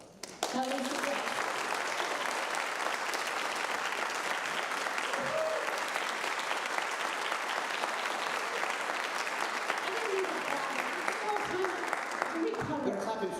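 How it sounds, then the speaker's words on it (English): Audience applause at a Busload of Books event, sustained and fairly loud for the whole stretch, dense steady clapping from a sizable crowd with faint voices and a few cheers mixed in. "They're clapping for him, not for me."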